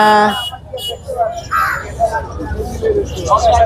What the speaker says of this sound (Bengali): এখানে রয়েছে অনেক সুন্দর একটি কথা বলা ময়না পাখি